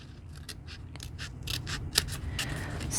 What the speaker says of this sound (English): now I'm just going to slightly curve my scissors so that they are going underneath this frame